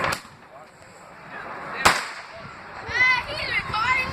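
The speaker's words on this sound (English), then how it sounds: "Awesome fireworks." Fireworks at a nighttime display burst with two sharp, loud cracks close by, while children's excited voices and chatter carry on throughout.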